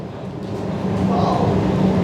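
A passenger train heading toward Roermond on a Luxembourg to Nijmegen journey, heard from inside the front car as a steady low rumble and hum that swells slightly partway through, with no clear voices.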